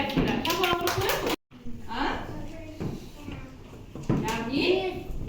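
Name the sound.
children clapping hands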